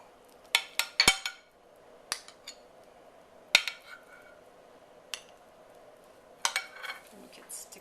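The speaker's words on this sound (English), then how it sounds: "And now I'll put some on an appetizer plate and serve them." Baked meatballs are set onto an appetizer plate with a serving utensil, making a few sharp clinks and taps against the dish at uneven intervals, close up in a quiet kitchen.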